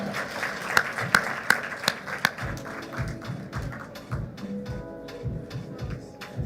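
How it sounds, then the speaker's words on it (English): Applause for a champion at a skills competition award ceremony, a few sharp claps near the start that quickly thin out, followed by low murmuring and scattered sounds in a large hall. "Let's clap for the champion."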